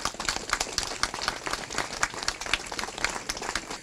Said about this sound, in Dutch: ik wil graag een applaus vragen voor onze fanfare